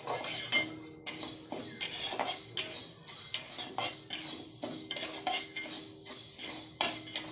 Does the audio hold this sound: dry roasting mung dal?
yes